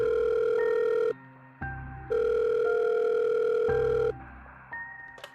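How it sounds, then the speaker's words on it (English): A telephone call to 911 placed from a cellphone: steady dial-tone-like beeps and ringing tones sound loud and close, alternating in long pulses with short gaps and a few higher keypad-like blips. "She then calls 911."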